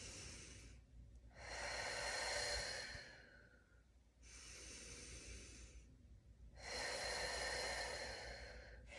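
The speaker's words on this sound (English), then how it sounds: "So what that is, it's a good bucket handle breath." Deep bucket-handle breaths expanding the rib cage, slow alternating inhales and exhales in long airy whooshes, three distinct breath sounds close to the microphone with no talking.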